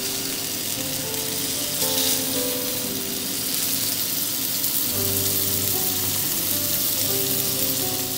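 Venison steak, already sous-vide cooked, sears in a hot pan just after flipping, giving a steady close sizzle and crackle that runs the whole time with no talk.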